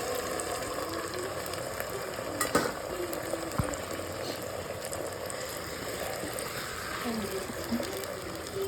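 Soaked varai rice sautés in ghee in a pan, a soft continuous sizzle and bubbling with occasional scraping stirs and clicks, faint and close.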